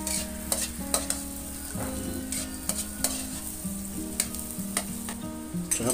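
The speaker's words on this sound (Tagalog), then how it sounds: "Isa-gisa lang hanggang sa medyo mag-brown-brown po siya." Onions sautéing in a pan until lightly browned, a close steady sizzle broken by repeated scraping and stirring strokes of a utensil against the pan, with no voices.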